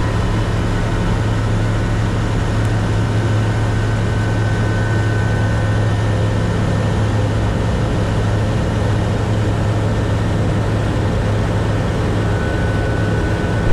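A Eurofox light aircraft taking off from runway 27 fills the cabin with a loud, steady engine and propeller drone and broadband wind noise, constant throughout with no speech.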